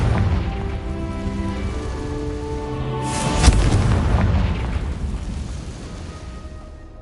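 A Confringo fire spell blasts in the Hogwarts Legacy video game as a single sharp boom near the middle, rising out of a steady rumbling battle bed and trailing off into a long, fading roar.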